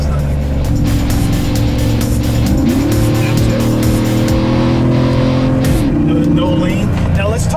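A 2014 Jeep JKU Sport with a Hemi engine rumbles steadily over dirt bumps, engine tone rising and shifting with rattles and thumps from the suspension, close and loud throughout.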